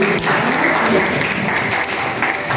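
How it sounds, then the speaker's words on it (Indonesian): A class of students and teachers at a peer-mentoring session in an Indonesian high school claps together, a dense steady patter of hands filling the whole moment at close range with no voices over it. "Tepuk tangan sekali lagi"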